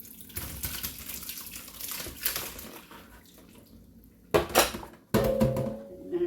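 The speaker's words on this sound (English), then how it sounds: "Dump that water, because you don't need all of it." Water from a pot of cooked apples pours out in a steady rushing stream, ending in a couple of louder splashy bursts and clanks of the pot.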